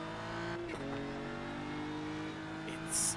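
A race car engine in a sim racing game at the Red Bull Ring drones steadily with a thin, strained tone that sounds underpowered, holding a near-constant pitch with a slight dip before a brief higher burst at the end.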